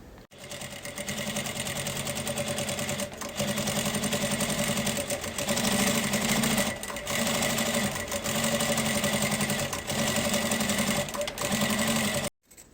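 An electric sewing machine runs steadily at a short 2.5 stitch length, stitching pinned fabric with a fast, even mechanical whir and clatter, pausing briefly a few times before stopping at the end.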